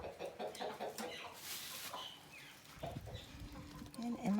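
Hens cluck with a rooster among them in a farm yard during egg collection, a series of close, fairly loud clucks and squawks recurring throughout over faint background noise.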